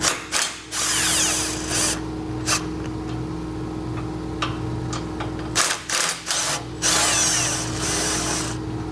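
A ratchet wrench turns base plate bolts on a 2020 Chevrolet Sonic, making close, rapid clicking bursts separated by short pauses, with no voices.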